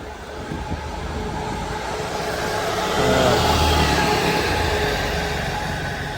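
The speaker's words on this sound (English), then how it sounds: "Some of these buses sound like bloody vacuum cleaners, don't they?" Buses idling and pulling away at Leigh bus station, a steady low engine rumble with a whiny, vacuum-cleaner-like drone that swells briefly midway, close by and continuous with no talk.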